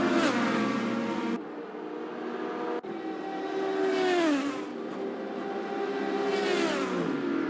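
Race cars engines scream past one after another in a sim racing game at Mugello, loud rising and falling revs with gear shifts, Doppler-like sweeps as each passes close.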